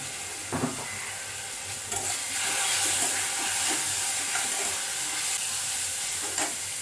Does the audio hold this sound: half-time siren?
no